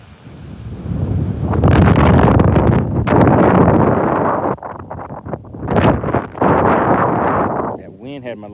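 Strong wind gusts buffet the microphone outdoors on a lake during a bass fishing tournament, a loud, roaring rush that swells and dips for several seconds.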